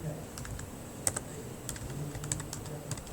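Quiet close-up typing on a computer keyboard, a quick irregular run of soft key clicks with no voice over it.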